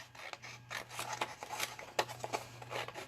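Scissors rough-cut printed paper pictures for a small minibook, with steady snipping and rasping blade strokes up close, accompanied by paper rustle and a faint low hum.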